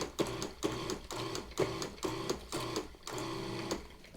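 A food processor pulses flour, salt and baking powder in a run of short whirring bursts, about seven quick pulses followed by one longer spin, close up and alone.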